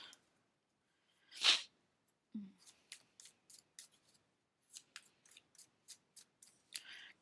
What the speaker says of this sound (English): let's do a quick shuffle here